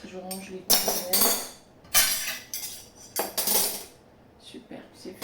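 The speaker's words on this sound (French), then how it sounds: "je range les couverts" Metal cutlery being put away while tidying an Airbnb rental, bursts of clinking and clattering utensils and dishes at close range, several separate rattles over a few seconds with faint speech-like sounds in between.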